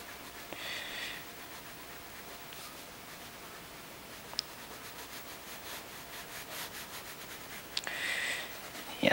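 A crayon rubbing across paper in short scratchy bursts, faint and close, separated by quiet gaps with occasional soft clicks and no talking.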